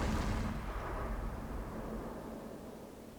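A USS Cleveland cruiser in World of Warships fires its guns, a loud booming salvo at the start that rolls into a long rumbling decay with a faint steady engine drone underneath.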